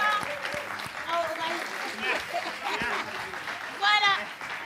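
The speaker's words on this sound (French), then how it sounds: "On applaudit pour eux." Audience applause at a lively French stage show as teams return to their tables, steady clapping with cheers running throughout under an excited host's voice.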